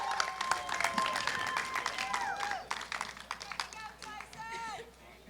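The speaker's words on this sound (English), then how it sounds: "Come on, big round of applause" A modest crowd claps for a pickleball medalist at the US Open, scattered and uneven applause mixed with cheers and voices, fairly faint throughout.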